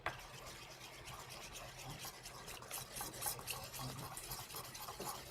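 Mango chutney is stirred together with fish sauce, lime juice and a touch of garlic, producing a soft continuous close rubbing and scraping that is steady and fairly quiet.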